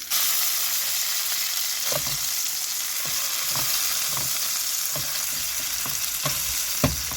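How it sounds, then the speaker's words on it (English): Steak fries in a pan at a stealth camping spot, a constant loud sizzle broken by occasional sharp pops and scrapes, heard close with no voices. "Cook your steak and your side is good to go"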